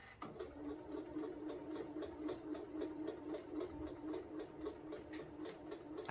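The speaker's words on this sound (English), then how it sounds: "We're going to go ahead and sew." Home sewing machine stitching a quilted placemat, a steady quiet rhythmic whir with fast regular needle ticks running the whole time at an even, slow pace.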